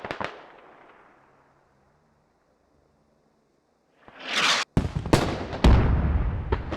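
An artillery strike in the video game Squad on the Gorodok map: a decaying boom fades to silence, then a rushing whoosh and a series of sharp, loud blasts crack in close succession.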